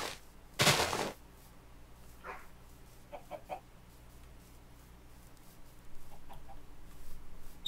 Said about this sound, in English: There's chickens and horses.